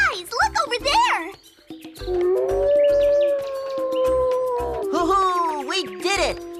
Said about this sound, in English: The howling sound came from the wolves.